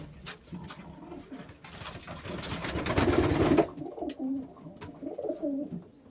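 Racing pigeons coo in a loft, low throaty calls rising to a louder burst midway and then trailing into softer repeated coos, close and without talk.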